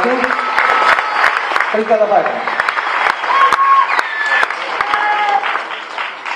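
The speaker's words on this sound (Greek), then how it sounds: "Ένα μεγάλο χειροκρότημα λοιπόν για τον διοργανωτή." Crowd applause for the organizer at a kickboxing and MMA event in Mytilene, with an announcer talking over it and scattered sharp claps and tonal sounds in the hall.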